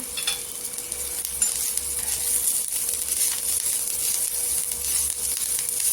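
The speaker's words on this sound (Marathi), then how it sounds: "कोथिंबीर पण छान अशी तव्यावर परतून घ्यायची" Fresh coriander leaves sauté on a hot tava griddle for a peanut green chutney, making a loud, continuous close sizzle with occasional scraping stirs and no talking.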